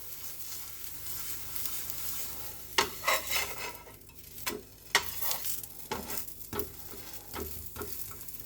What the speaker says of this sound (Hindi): अब दोनों तरफ से इसे घी लगा दिया है और अब हम इसे अच्छे से सेक